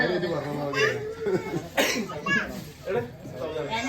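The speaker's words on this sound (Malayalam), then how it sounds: "ചുമക്കുണ്ടല്ലോ" A cough is heard amid lively conversation, with several people talking and laughing around it in a close, casual indoor setting.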